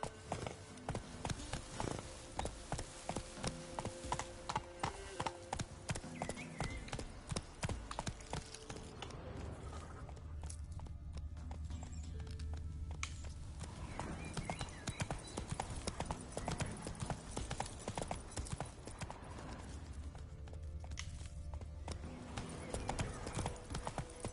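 Roach the horse gallops through The Witcher 3 game world, hooves clip-clopping in a steady rapid rhythm that runs nearly throughout, loud and close, with game music and ambience underneath.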